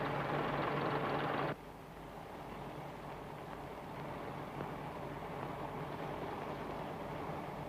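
The underfloor diesel engines of a vintage diesel train power car, similar to bus engines, idle with a low steady rumble; a louder broadband hiss cuts off after a second and a half, and the idling drones on alone.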